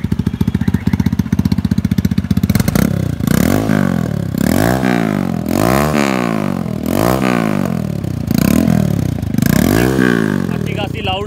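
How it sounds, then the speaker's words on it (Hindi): A modified TVS Apache motorcycle with a fat 190 rear tyre cranks and fires up, then revs loudly in a series of rhythmic blips that rise and fall, close by, with someone talking over parts of it. "मैं भाई को बोलूँगा एक बार बाइक स्टार्ट कर दें,"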